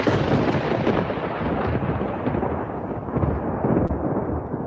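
A thunder sound effect marks a segment on a gaming podcast: a dense, loud, continuous rumble with crackling bursts throughout and no voices.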